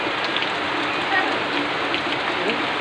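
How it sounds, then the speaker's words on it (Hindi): Heavy rain falls steadily outside during a rainy-season Rath Yatra in western Odisha, a dense continuous hiss with faint voices in the background. "बाहर बहुत पानी बरसू छे"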